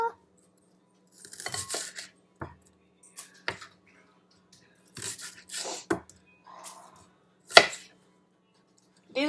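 A kitchen knife slicing through an onion on a cutting board, heard as a handful of sharp, close chops and taps separated by short pauses.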